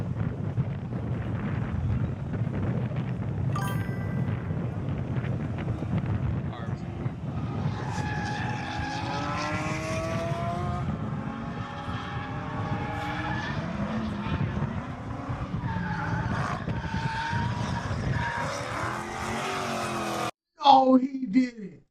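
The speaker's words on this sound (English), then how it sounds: "This drift a Charger." A Dodge Charger drifting in Las Vegas, its engine roaring loud and steady with repeated rising and falling revs through most of the run, voices talking over it and a short burst at the end.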